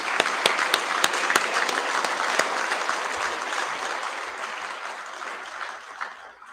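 Steady applause from an audience for prize-winning students at a Year 12 and 13 school prize-giving assembly, opening with a few sharp, close claps and then settling into a dense wash that slowly fades.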